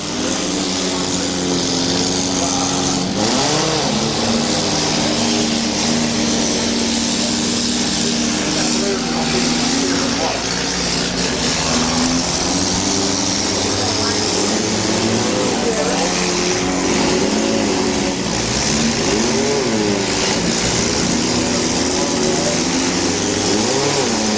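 Several battered demolition derby car engines run and rev together at a county derby, a loud continuous roar with rising and falling pitch swells throughout, with crowd or announcer voices mixed underneath.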